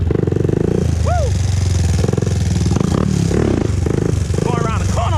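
A 2001 Honda TRX400EX ATV rounding a corner, its loud, close engine chugging with a steady rapid pulse and shifting tone, while someone talks and whoops over it.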